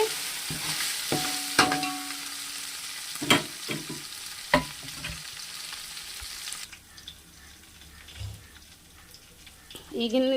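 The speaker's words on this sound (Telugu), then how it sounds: "ఒకసారి అయితే తిప్పుకుంటున్నానండి, కింద లేదు. మసాలా అయితే మంచిగా ఉడికిందండి." A spoon scrapes and knocks around a cooking pot as masala cooks for coconut rice, with sharp metallic clinks early on over a steady low sizzle, then softer stirring later.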